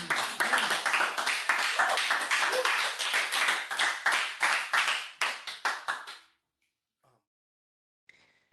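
One person claps during an online English class session, a brisk run of close, sharp hand claps that slows and stops after about six seconds, followed by near silence.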